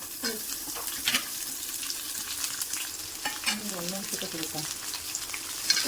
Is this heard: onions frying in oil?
yes